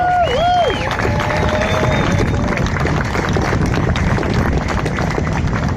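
Crowd applause and cheering at the opening of a Kansas City streetcar riverfront extension, dense and loud throughout, with a few whoops and whistles near the start.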